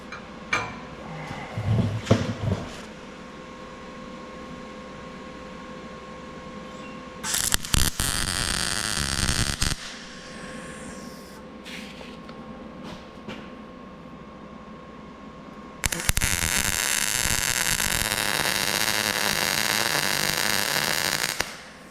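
Metal being welded on parts of a small block Chevy engine, heard as two loud bursts of steady crackling hiss. The first lasts about two seconds and the second runs longer, with quieter shop noise between them and no talking.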